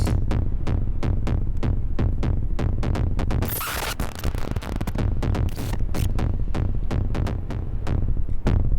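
A modular synthesizer plays a cinematic kick drum in a fast, steady run of punchy booming hits, with a brief burst of hissing noise partway through and no voices.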